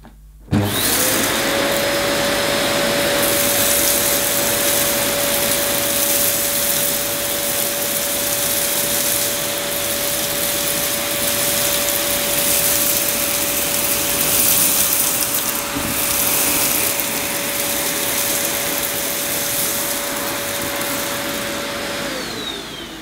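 A Rowenta Tonixo vacuum cleaner runs continuously, picking up rolled oats off a floor, a loud steady whine after a sharp switch-on, with its motor droning for over twenty seconds before beginning to wind down.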